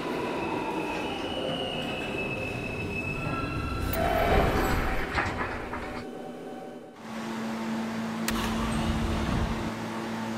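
An E train on the subway runs loudly through the tunnel, with a sustained roar, sharp wheel squeals and clattering that dip briefly before the rumble resumes.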